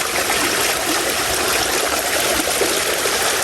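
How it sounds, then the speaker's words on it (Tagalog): Loud, steady rush of flooding river water pouring in close by, a continuous churning flow with no voices. "Malakas po ang pasok po ng tubig dito"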